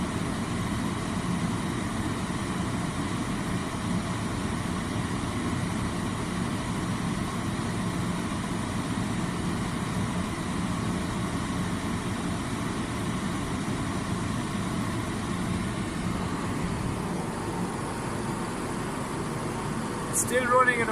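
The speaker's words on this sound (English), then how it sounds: "Now I can hear the engine idle speed increasing" A car engine idles steadily with its alternator and voltage regulator switching, a continuous low hum at constant level with a brief rattle near the end; someone talks over it.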